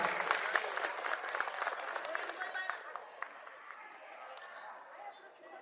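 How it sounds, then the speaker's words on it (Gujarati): An audience at a community get-together in Rajkot gives sustained applause for the event's donors, a dense wash of many hands clapping that slowly fades toward the end. "તો આપણે ખૂબ ખૂબ તાળીઓથી આપણે આજના મુખ્ય દાતાશ્રીઓને વધાવીશું."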